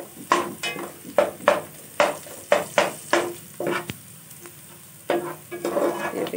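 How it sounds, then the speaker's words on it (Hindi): Spices frying for a masala in a pan over low heat sizzle softly under a regular series of stirring scrapes, each stroke close and clear, about two per second, with no talking. "हल्की आंच पे आपने इनको अच्छे तरीके से फ्राई कर लें ताकि इनका अच्छा सा मसाला बन जाए।"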